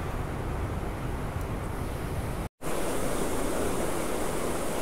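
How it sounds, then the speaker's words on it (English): A waterfall pours into a pond with a loud, steady rushing hiss, close and unbroken apart from one brief cut partway through. "Now we got a waterfall coming into that same pond on the other side."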